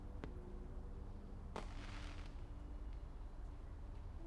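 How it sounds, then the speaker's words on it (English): Fireworks in the game Old Skies: a few sharp distant bangs and crackling bursts over a steady ambient background, with no voices. "The fireworks will be over soon."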